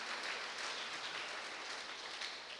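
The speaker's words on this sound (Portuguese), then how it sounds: "pode aplaudir o Senhor" Congregation applauding inside a church, a steady wash of many hands clapping together, fairly faint and continuous without talk.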